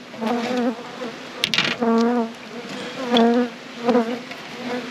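Honey bees buzz around an open hive while being fed syrup in October, a steady close drone rising and falling in several swells with no voices.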